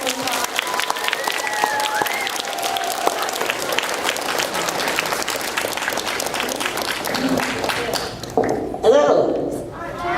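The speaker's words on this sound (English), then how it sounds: "Let's give him a big round of applause." An elementary school audience of children claps and cheers in sustained, dense applause filling a large room, fading near the end as a voice rises over it.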